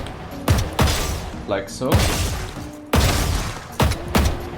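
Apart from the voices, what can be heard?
gunshots in Valorant aim drill, video game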